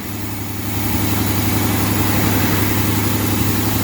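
A 2006 Buick Lacrosse engine running rough just after a starter replacement, a steady loud idle with a low droning hum and uneven texture, heard close and alone.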